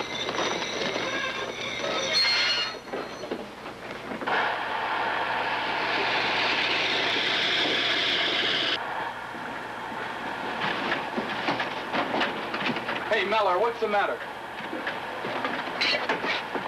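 A train rolling along rails, with a steady rumble and rhythmic clatter that swells and then drops off midway, while people talk nearby.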